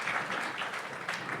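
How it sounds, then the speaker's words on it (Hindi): Steady audience applause during a televised Hindi interview with a state deputy chief minister, an even wash of clapping at moderate volume with no pauses. "कम से कम इस बात के लिए ताली बनती है"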